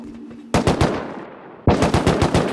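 Loud automatic gunfire from the Rust video game, two long rapid bursts of shots separated by a short pause, close and dominant with no talk.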